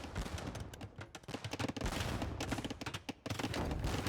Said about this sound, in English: Organ guns continuing to trickle out here.